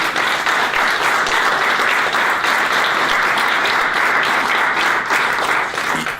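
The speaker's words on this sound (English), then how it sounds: "Does that deserve a round of applause?" Loud, sustained applause from an audience at a book launch, many hands clapping in a dense, even roar that carries on without a break and fades slightly at the end.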